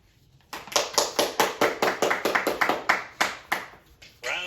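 A small group claps after a child's speech, with distinct, fairly close hand claps in a steady rhythm for about four seconds, with no talking.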